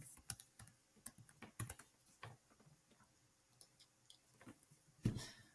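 Quiet, irregular clicking of keys as a password is typed on a computer keyboard, with a heavier keystroke near the end and no talking.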